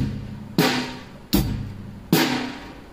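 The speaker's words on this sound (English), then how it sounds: "then I teach them the most basic drum beat in rock and roll," A basic rock drum beat of bass drum, snare and hi-hat, heard here as three sharp, loud drum hits spaced evenly about three quarters of a second apart. Each hit rings and fades before the next, with no talking.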